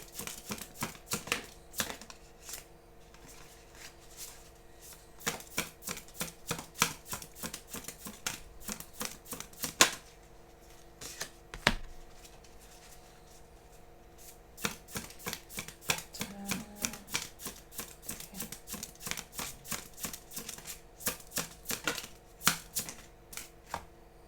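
Tarot cards shuffled and drawn during a reading: a long run of quick, dry riffling clicks and flicks, close and fairly quiet, with a few sharper snaps and short pauses between bursts, no talking.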